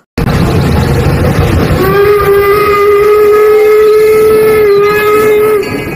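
A loud, sustained toy locomotive steam whistle blows steadily for several seconds over a hissing background, close and piercing.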